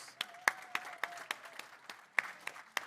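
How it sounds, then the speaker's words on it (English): A round of applause for a presenter, heard as sparse, irregular handclaps from only a few hands, crisp and fairly quiet with gaps of silence between them. "another round of applause for Federico from Avamos."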